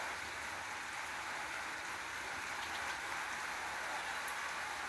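Soft, steady rain falling evenly, a constant gentle hiss with no breaks and no voices.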